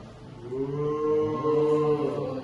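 A child imitates a cow's moo, a single drawn-out, steady lowing tone lasting about two seconds over a quiet room background.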